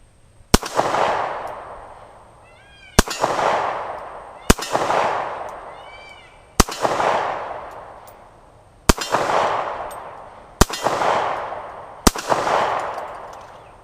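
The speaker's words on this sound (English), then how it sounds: "I'm going to go ahead, open fire, safety's off" Wolf 9mm FMJ rounds fired on a range, each sharp shot followed by a ringing clang off a steel target; seven evenly spaced, loud reports roughly two seconds apart, each decaying into a metallic ring.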